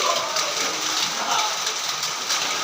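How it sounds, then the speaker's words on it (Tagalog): Steady rain falls throughout at an outdoor eating spot, a dense even hiss close by with no gaps, with faint background chatter beneath. "Ulan perni."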